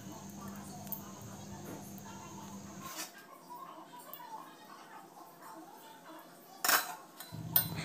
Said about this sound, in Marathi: आता येथे मी गॅसवर जाड तळाचा पॅन ठेवून देत आहे